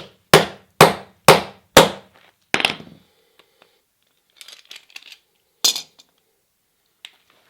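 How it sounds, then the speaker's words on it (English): An old skateboard truck kingpin is hammered out with a punch held in vice grips: four sharp, loud metallic strikes in quick succession, then a fainter hit and scattered light clinks and taps. "grip with a set of vice grips, and hammer the old Kingpin out."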